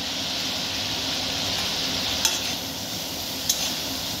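Fried potatoes seasoned with salt and turmeric hit spiced oil in a pan for a thin katla fish curry, giving a steady, close sizzle with two brief clinks of stirring and no talk.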